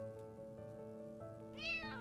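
A cat meows in the video game Only Way Is Down: one clear, rising meow near the end of the clip, heard over a steady musical background with no talking.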